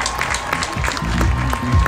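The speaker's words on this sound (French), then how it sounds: "Applaudissements pour les Master" A crowd applauds Master category finishers at a midnight trail race prize ceremony outdoors, a brief burst of mixed clapping and cheering under an announcer's amplified voice.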